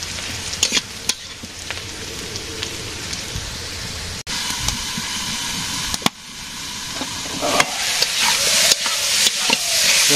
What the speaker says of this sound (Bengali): আলু ভেজে নিলাম, পটল পরে ভাজবো তরকারি।